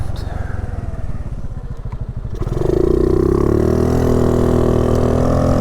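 A 2022 Honda Navi motorcycle with an aftermarket intake, heard close while riding: a throbbing low idle-like pulse that swells into a louder, steady revving drone as the bike accelerates.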